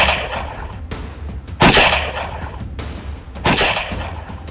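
Gunshots ring out from a video playing on a TV screen in a rough, echoing backdrop, two or three sharp loud cracks spaced apart amid a constant noisy rumble.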